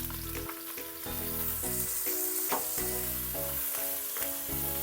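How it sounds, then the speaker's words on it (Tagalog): A large onion is dropped into a pan of light-brown frying garlic, setting off a loud, close, continuous sizzle with scraping stirs and some tonal hum underneath. "Kapag light brown na yung bawang, ilagay na natin itong isang malaking sibuyas."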